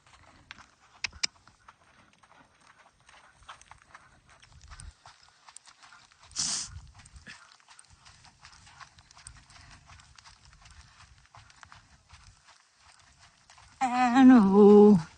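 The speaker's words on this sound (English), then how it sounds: "And then I'm going to ask her to trot because she feels like she can." A horse trotting with quick, regular clip-clopping hooves on the ground, fairly faint and steady throughout, with a brief louder scrape midway and a loud burst of horse breath or snorting near the end; no talk.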